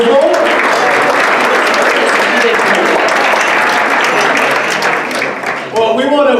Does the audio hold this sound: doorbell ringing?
no